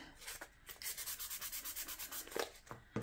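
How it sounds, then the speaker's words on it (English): Fine, almost wet-dry sandpaper rubs across dollhouse stair treads in a quick, even run of short back-and-forth strokes, close and quiet, with a few scattered strokes before and after the run. "each one of these treads that are facing forward on the stairs needs to be sanded"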